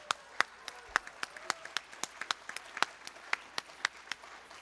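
Sparse applause at a Bharatanatyam arangetram, individual hand claps ringing out distinctly and unevenly, moderately close and fairly quiet rather than a dense roar.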